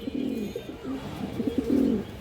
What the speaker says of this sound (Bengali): আর এক জোড়া সিলভার কবুতর আছে মাশাআল্লাহ, সিলভার লাইনের কবুতর